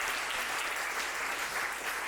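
An audience at a youth summit applauds, a dense, steady wash of clapping that holds at an even level throughout, with no distinct voices.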